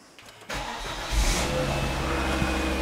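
A Volvo V70 engine cranks and catches after a half-second of quiet, then settles into a loud, close idle with a brief rev bump, running steadily to the end without talk.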